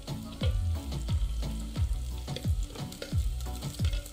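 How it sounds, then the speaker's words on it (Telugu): Onions frying over high heat in a pot for prawn biryani, sizzling steadily with repeated stirring strokes scraping through at a regular rhythm, close and fairly quiet, with no talking. "ఈ ఉల్లిపాయల్ని వేపుకోవాల్సి ఉంటుందన్నమాట. హైలో పెట్టుకొని చక్కగా వేపుకుందాం."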